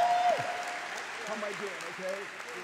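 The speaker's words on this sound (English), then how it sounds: "You can clap for a second." Audience applause at a gospel jazz service, a steady wash of clapping across the room that stays even throughout, with a voice speaking over it.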